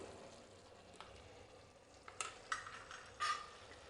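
Quiet scraping and clinks of a spoon stirring okra with spice mix in a pan, a few light knocks against the metal over a faint sizzle.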